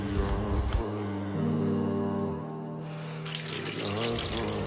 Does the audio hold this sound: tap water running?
yes